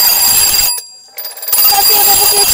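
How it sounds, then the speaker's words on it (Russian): An old mechanical alarm clock rings its bell loudly in a dense metallic clatter, cuts out briefly for about a second, then resumes just as loud. "да, это старый будильничек. Только он будет звенеть очень громко."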